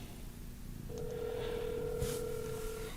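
A single steady electronic ringing tone plays for about two seconds as an outgoing phone call rings through Bose Frames audio sunglasses at max volume, over light background noise.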